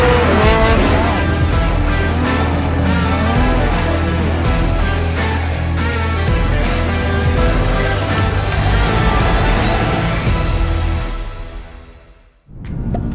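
A petrol Toyota Kijang Innova Zenix Type V climbs an incline, its engine loud and steady, with a sudden drop in sound near the end.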